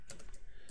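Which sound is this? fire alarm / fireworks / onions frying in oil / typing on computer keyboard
typing on computer keyboard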